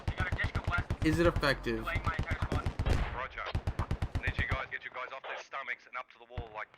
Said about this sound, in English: Kuba's on the Dishka laying down fire.